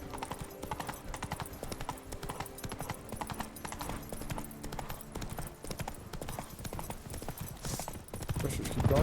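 Roach the horse's hooves clip-clop steadily in Witcher 3: Blood & Wine, a fast, continuous stream of hoofbeats at close range over ambient game sound.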